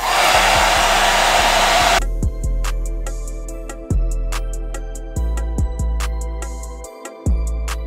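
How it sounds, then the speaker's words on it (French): A hair dryer on its hottest setting roars loudly at full blast, then drops to a quieter steady whir broken by occasional soft bumps and clicks. "prendre votre sèche-cheveux, tout simplement, de le mettre sur le niveau le plus chaud"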